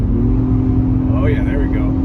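A 2022 Acura MDX engine climbs in revs after a pull on the shift paddle, a steady hum that lifts briefly, with a person talking over it.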